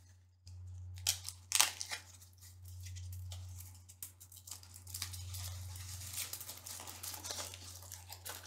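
Recyclable packaging around an Alter Eco organic chocolate bar being torn open, with close crinkling, rustling and sharp tearing bursts against a low steady hum.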